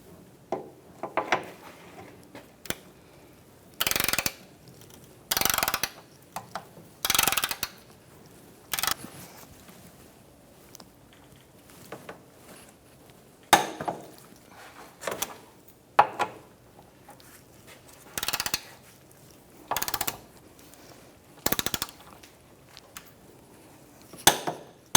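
A wrench tightens the lower control arm bolts on a 2004-2009 Mazda 3, giving sharp, irregular ratcheting bursts and metallic clicks up close, separated by quiet pauses.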